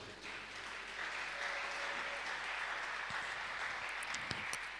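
A church congregation applauds and cheers in praise during a French-language service, a steady, even wash of clapping that holds for several seconds at a moderate distance.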